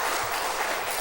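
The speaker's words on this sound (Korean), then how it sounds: "우리 옹규에서 박수 한번 합시다" A church congregation applauds during a Sunday service, producing a dense, steady wash of clapping that fills the whole moment with no voices.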